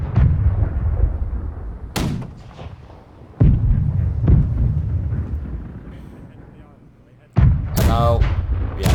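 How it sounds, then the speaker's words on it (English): Heavy booming cannon shots in a pirate ship video game, several loud separate blasts with decaying rumbles between them and some voices underneath. "as many cannon shots into them as humanly possible"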